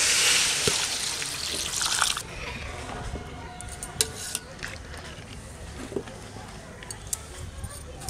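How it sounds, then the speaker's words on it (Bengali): Water poured into a pan of fried potatoes for village-style aloo dum, a hissing gush at first that settles into faint bubbling and clinks, with people chatting nearby. "আলু কষানো হয়ে গেছে, এখন জল দিয়ে দেবো।"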